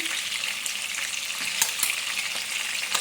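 Minced chicken cutlets fry in a pan with a dense, continuous sizzle, punctuated by a few soft crackles and spatters, close and even in level.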